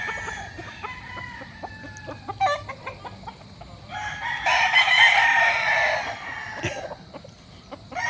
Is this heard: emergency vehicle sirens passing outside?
no